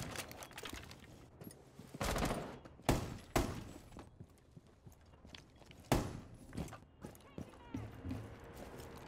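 Gunfire from a competitive Valorant-style college esports match between UM-Flint and Highland Community College, sharp shot bursts at about 2, 3, 3.5 and 6 seconds over constant game noise, with shouted commentary nearly throughout.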